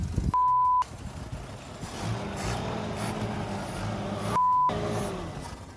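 A long-idle Nissan 720 truck with an automatic transmission rumbles as it pulls away in gear, a steady low engine drone throughout, with two loud electronic beeps, one near the start and one near the end.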